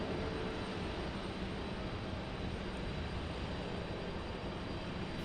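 An Embraer jet airliner taxis at Raleigh-Durham airport, giving off a steady, fairly quiet engine hiss and rumble with no change over a few seconds and no talking.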